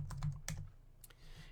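Several key presses on a computer keyboard, F2 among them, give a short run of soft, close clicks followed by a quieter tap or two, with no talking.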